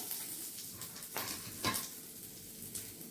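Dried chilies, garlic, ginger, coconut and tamarind fry lightly in oil for coriander rice, a soft low sizzle with a couple of brief stirring swishes close by.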